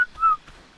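A whistle command sounds in Ark Survival Ascended as two short, clean whistled tones, the first very brief and the second a little longer, against quiet game ambience.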